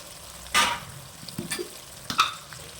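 Tamarind mixture sizzling in a pan with a few scraping stirs, brief bursts of frying noise separated by quieter moments, close by.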